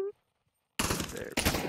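Gunfire from a gun in the VR shooter Pavlov VR: a clipped start, a brief silence, then a loud, dense burst of rapid shots that continues to the end with a short dip.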